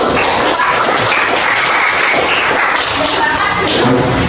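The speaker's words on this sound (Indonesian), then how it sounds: "Berikan tepuk tangan untuk kelompok" A class group in a teacher-training session gets a round of applause, dense and steady clapping from many hands filling the room at close range for several seconds.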